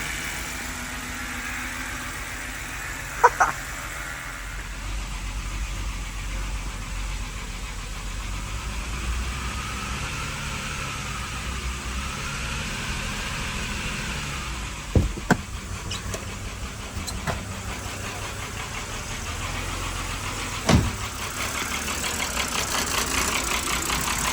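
A BMW 5 Series engine idling just after a hard start with oil burning off, a steady low rumble held for the whole stretch with a few brief clicks and knocks.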